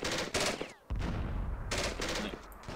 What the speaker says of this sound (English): The gunfire seemed to do more damage.